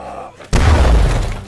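A grenade blast in a World War II war film, where a lieutenant and a Nazi soldier carrying the grenade blow up together: after a quiet half second, a sudden loud, heavy boom with a shattering crash rolls on and sustains.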